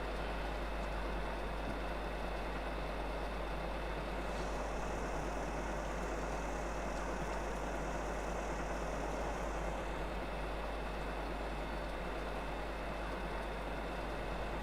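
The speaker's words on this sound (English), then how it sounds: "see how fast the new tractor can go up that hill with a full load of silage" A new tractor in Farming Simulator 25 hauls a full load of silage uphill, its engine a steady, continuous drone at constant loudness with no talk.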